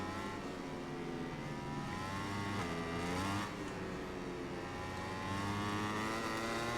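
A Yamaha MotoGP bike in the MotoGP 21 video game shifts down under hard braking, its engine note falling and rising in stepped, buzzing pitch sweeps with a continuous loud race-car drone and no talking.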